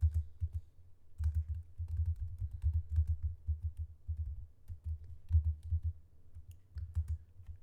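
Steady typing on a computer keyboard, a long password being entered on a hacking practice site: rapid continuous key taps with brief gaps, close and soft, with no voices.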